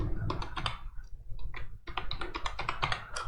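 Code for an Angular 18 template-driven form is typed on a computer keyboard, with quick bursts of close, crisp key clicks, a short pause in the middle, then a faster run of keystrokes.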